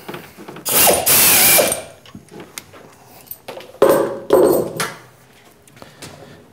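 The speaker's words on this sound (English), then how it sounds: "Now this is a big drill to be running without a pilot on this mill" A Grizzly G0704 milling machine runs a half-inch drill through metal without a pilot hole, grinding in two loud bursts separated by quieter mechanical clatter.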